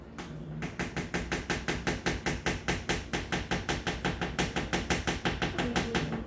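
A spoon is tapped repeatedly against a container to knock flour off while mixing homemade washable paint, giving a steady run of about two dozen sharp, evenly spaced knocks, close and fairly loud, with no talking.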